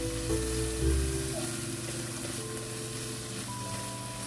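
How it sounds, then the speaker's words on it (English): Kimchi fries in hot oil in a pan as it is stirred, giving a steady, close sizzle with faint scraping and no talk. "Stir it a few times so that the kimchi is coated with oil and heat."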